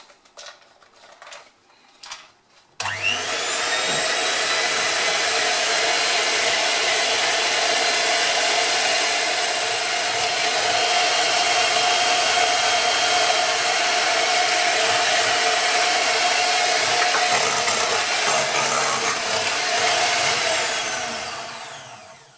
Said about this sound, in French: Je vais mélanger un petit peu de bière avec le robot.